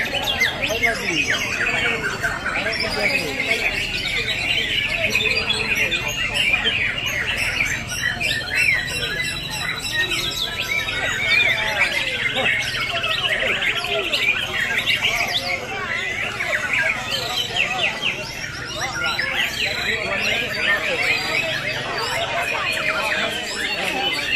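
White-rumped shamas sing at a songbird contest in Banda Aceh. Dense, continuous chirps, whistles and squawks from many birds run over steady crowd chatter.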